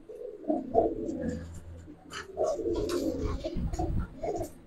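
Female Rampani-breed pigeons coo in soft, low, repeated bursts at close range, the throaty calls overlapping in an irregular rhythm with no talking.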